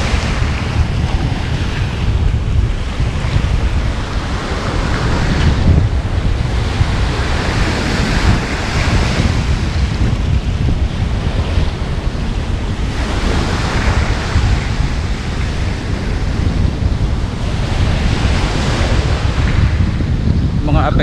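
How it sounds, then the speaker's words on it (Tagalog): Ocean waves pound the shore at a coastal village during Typhoon Fabian, a loud unbroken roar of surf and gusting wind that swells and surges without pause. "pag lumalakas ang hampas ng alon"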